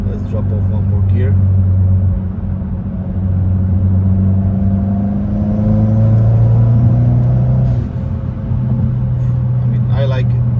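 Hyundai Elantra N engine fitted with an aFe Takeda Stage 2 cold air intake, droning steadily and loud in manual mode, with pitch shifts as it downshifts a gear and brief intake whooshes near the start and end.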